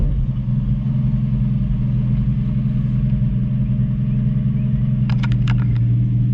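A 1965 Ford Mustang coupe idles with a steady, loud low rumble throughout, a few faint high clicks appearing near the end.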